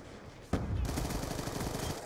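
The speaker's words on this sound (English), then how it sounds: "the MSMC basically had no recoil and still killed in like 2 shots" MSMC submachine gun in Black Ops 2 opening up after a short quiet moment: a loud, sustained burst of rapid automatic fire that keeps going to the end, close and dominant.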